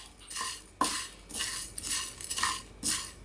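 Garam masala spices lightly roasted in a pan, with a metal spoon stirring and scraping in repeated soft strokes, a faint dry rustle of whole spices between them, quiet and close, with no talk.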